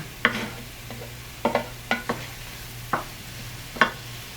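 Dairy-free parsad batter being stirred in a bowl, with a handful of soft, irregular scraping and slapping strokes spread across a quiet steady background hum.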